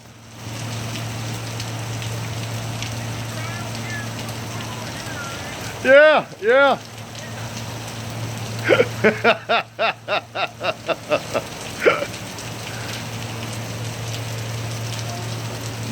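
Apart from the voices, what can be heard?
hail falling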